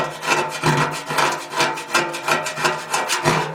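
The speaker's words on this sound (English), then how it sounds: "I'm just chipping that off with my nail" Dry scraping and rubbing as flaking paint is chipped off an old Willys CJ3B body tub with a fingernail, a steady series of short rasping strokes, close and fairly loud, with a low hum underneath.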